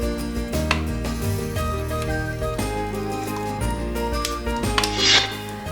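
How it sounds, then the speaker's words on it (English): Cooked sarson ka saag is mashed in a pot, giving rhythmic thuds and soft squelchy knocks up close, with one brief hissy splash toward the end and no talking. "so we just mash it up a little more"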